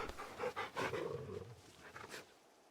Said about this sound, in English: Just a very big puppy.